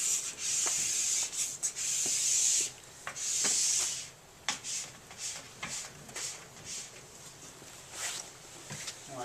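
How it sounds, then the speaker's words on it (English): A scraper pulls glide wax off the black P-Tex base of a cross country ski in a series of rough, raspy strokes, close and fairly quiet, some long and some short, with brief gaps between them. "We're going to scrape it all off."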